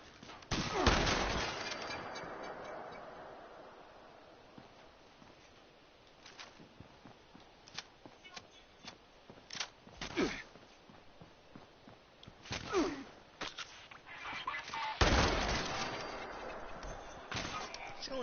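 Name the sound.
shotgun fire in video game Fallout 76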